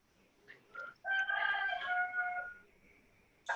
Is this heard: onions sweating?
no